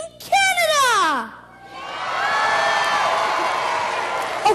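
A big crowd of kids and adults cheers and whoops for Team Canada in a mock Olympic gold-medal hockey moment at the Vancouver 2010 mascot launch, a loud sustained roar rising after a brief shouted voice at the start.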